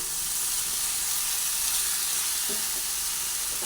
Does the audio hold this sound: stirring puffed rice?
yes